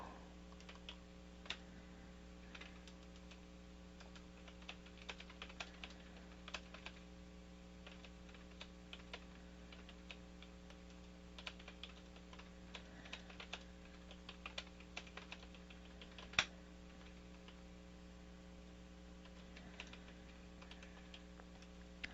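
Steady, light clicks of typing notes on a computer keyboard carry on for the whole stretch, quiet and close, over a constant low mains hum with no talking.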